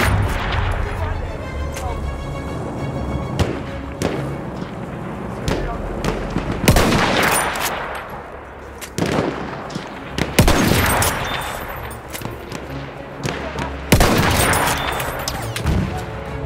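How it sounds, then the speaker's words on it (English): Battlefield 1 enemy artillery barrage with crackling gunfire: repeated loud sharp blasts and explosions at irregular intervals over a bed of rattling automatic fire, some very close. "Wait for the enemy artillery barrage to stop firing."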